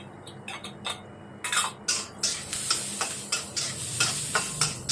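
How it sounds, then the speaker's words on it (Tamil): Garlic cloves frying in hot oil for a Kam Heong paste, giving a steady sizzle broken by repeated close scraping and stirring strokes against the pan, with no talk. "பூண்டு போட்டுக்கலாம்."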